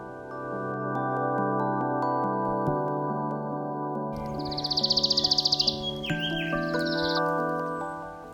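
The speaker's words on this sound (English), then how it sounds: "The first bird we saw here is this noisy Sikkim tree creeper." A Sikkim treecreeper's rapid trilling call rings out over steady droning music, a short series of high notes that fades, then a second brief burst.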